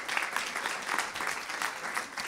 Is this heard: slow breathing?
no